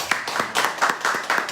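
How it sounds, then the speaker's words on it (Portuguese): A church congregation claps together in a short burst of rhythmic clapping, evenly spaced strokes at a moderate, close level with a faint voice underneath. "Salva de palmas ao Senhor."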